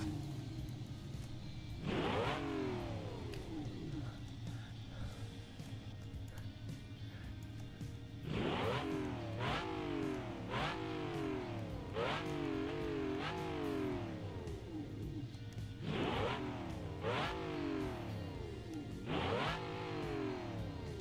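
A V16 Group 5 race car engine in a video game revs repeatedly in sharp, rising bursts over a steady idle drone, with about eight distinct throttle blips clustered in groups, loud and close.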